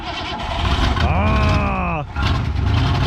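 A carburetted engine on an abandoned 1992 Ford F150 pickup cranks and tries to catch, a loud, close whine rising and then cutting off after about a second, with rumbling before and after.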